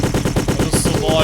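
Rapid automatic gunfire from the Russian shooter game Kreed, fired at insectoid aliens: a loud, steady burst of evenly spaced shots with no pauses, ending with a brief high-pitched game effect.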